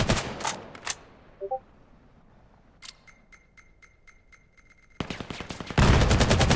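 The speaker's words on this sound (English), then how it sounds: "Really gunshots." Sparse gunshots in a 5v5 competitive shooter match, a few distant pops early, then a rapid burst of loud close fire near the end, with game sounds between.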